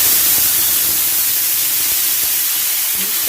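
Water hits a hot tawa griddle heated for onion uttapam, giving a loud, steady steam hiss and sizzle that fills the whole short stretch with no talking.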